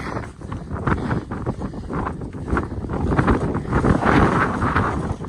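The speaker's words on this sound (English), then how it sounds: "Cold and windy." Strong, cold gusting wind on the Appalachian Trail roars and buffets continuously at close range, rumbling and rustling with no pause throughout.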